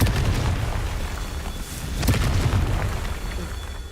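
In the Hogwarts Legacy video game, a Confringo blasting spell goes off with a deep, rumbling explosion, a loud booming burst followed by a second sharp blast about midway, near and full.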